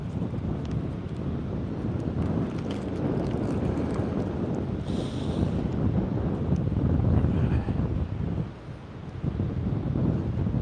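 Gusty wind buffets the microphone at an oceanfront beach in San Diego, with surf washing in steadily underneath, loud and continuous with a brief lull near the end.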